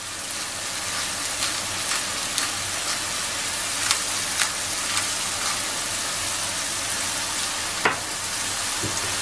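Onion and garlic sizzling steadily in a hot pan, seasoned with salt and pepper, a loud continuous frying hiss with a few light clicks and taps of stirring on top.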